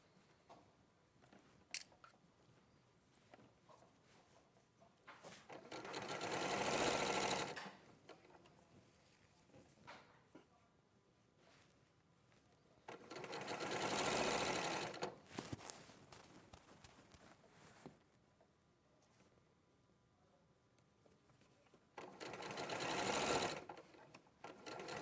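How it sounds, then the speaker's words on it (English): An overlocker runs round the armhole edges of a garment in three loud bursts of several seconds each, separated by quieter handling and shuffling of fabric. "just overlock round the edges"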